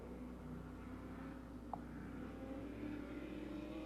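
An SK Modified race car runs a lap at Stafford Motor Speedway, its engine a steady, distant drone that swells slightly toward the end, with no voices over it.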